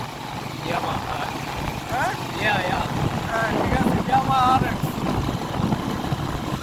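An old Yamaha RX 125 motorcycle engine runs steadily at close range, a low rumbling drone with a brief spoken reply over it.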